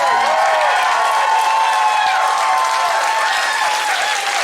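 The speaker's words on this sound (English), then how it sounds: "give a big round of applause for the unsung heroes of rock and roll" A concert audience at a rock show in a music hall gives a big round of applause, loud and close, with dense continuous clapping and some cheering filling the whole stretch.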